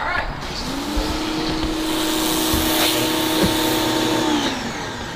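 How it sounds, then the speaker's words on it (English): A pressure washer cleaning a deck runs as a continuous steady whine and hiss, loud and close throughout, with faint background voices. "Why is he pressure washing in the middle of the deck?"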